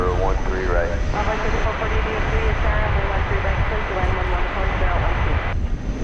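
An American Airlines Airbus A321 landing at DFW Airport, a continuous jet engine roar with whining tonal components that holds steady throughout, partly under people talking and radio chatter.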